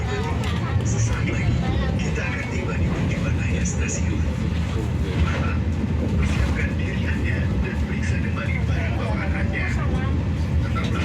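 Rumble of the KA Majapahit New Generation train at Malang Kota Lama station in Indonesia, a steady dense low roar throughout with people talking nearby.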